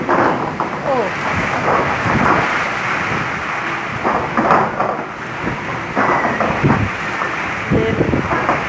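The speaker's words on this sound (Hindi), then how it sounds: "ओह ये तो मुझे लग रहा है कि आंधी तूफान का कुछ" Gusty storm wind buffeting the microphone during heavy rain in Karachi, with low rumbles like distant thunder and a steady roar throughout, and people talking faintly underneath.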